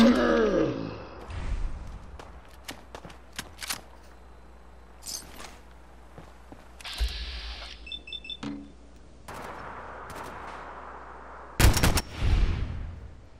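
AK rifle fire from Fallout 4 comes as scattered, sharp gunshots and short bursts against quiet game ambience, with a few gasps and voice sounds mixed in.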